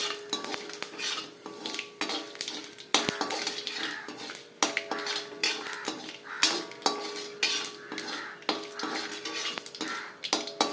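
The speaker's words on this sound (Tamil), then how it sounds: "சிம்மில் வச்சு வறுக்கிறேன்" A spoon repeatedly scrapes and stirs plantain curry in a pan over a low flame, with rhythmic close metallic scraping strokes and a faint sizzle underneath.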